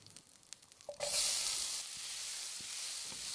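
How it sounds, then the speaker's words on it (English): Chopped onions drop into hot oil with spices, a sudden loud hiss that settles into a steady sizzle after some quiet clinks, no speech. "when the seeds begin to splutter, add the finely chopped onions"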